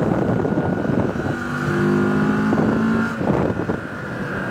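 Moto Morini X-Cape 650 motorcycle engine accelerating on the road, a loud close drone that rises in pitch as revs climb, holds, then shifts and pulls again, over steady wind rush.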